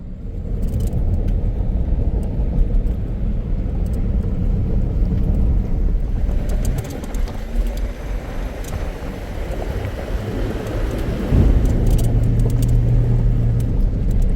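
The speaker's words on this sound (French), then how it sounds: "Ils ont peur de rien les camions ici." Trucks rumble along a national road in Peru, a loud, continuous engine drone with tyre roar that swells and shifts as vehicles pass close by, and a low heavy growl rises near the end.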